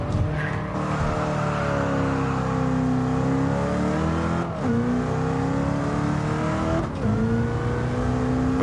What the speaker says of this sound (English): My god, you can just hear that supercharger